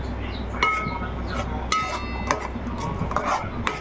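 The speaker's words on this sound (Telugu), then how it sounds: "బాగా కలిపిప్పండి" Chili powder and salt are stirred into a pot of fish curry, with a spoon scraping and clinking against the metal pot in irregular strokes over a steady low background hum, close and fairly loud.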